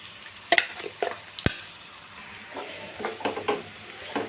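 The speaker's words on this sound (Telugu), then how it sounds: "మనం పేస్ట్ చేసుకున్నాం కదా ఉల్లిపాయ పచ్చిమిరపకాయలు ఆయిల్లో వేసుకుందాం" Onion and green chilli paste frying in hot oil sizzles close by, with a few sharp spoon knocks against the pan early on, then a softer, bubbling crackle that keeps going with no talking.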